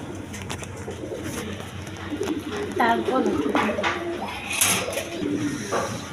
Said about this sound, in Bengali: এক পেয়ার রেশার কবুতর আছে, দেখেন কোয়ালিটি সম্পন্ন কবুতর